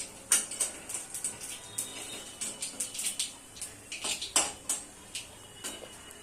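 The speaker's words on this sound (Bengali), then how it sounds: "এবার ওই তেলেতেই আমি একটা শুকনো লঙ্কা আর একটু দিয়ে দেবো কালো জিরে, দিয়ে আবার একটু ভালো করে নেড়ে নেব।" A utensil stirs dried red chilli and black cumin in hot oil in a pan, giving quick metallic scrapes and clinks in irregular bursts over a quiet background.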